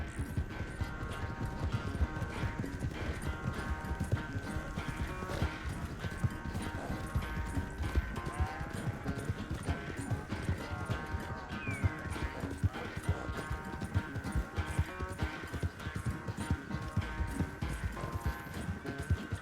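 Horse hooves clip-clop steadily at a gallop through a race in the video game Red Dead Redemption 2, a dense rapid rhythm running throughout, with background game sound and occasional voices.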